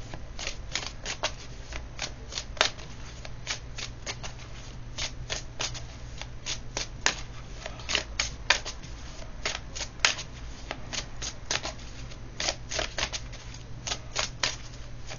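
Cards being shuffled at close range, with soft riffling flutters and sharp snaps repeating irregularly over a low steady hum, no talk.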